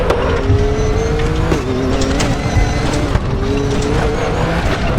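Racing engine in the RaceRoom sim, an AMG or GT-R, revs hard and steadily in third gear while the tyres lose traction, with a brief dip around one and a half seconds before the drone resumes, loud and close.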